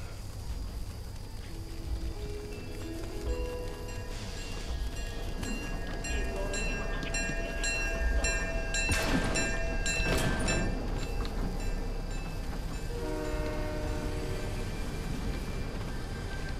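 A train approaches in a video game, a steady low rumble with rising metallic whistling and screeching tones that swell in the middle, continuous and moderately loud.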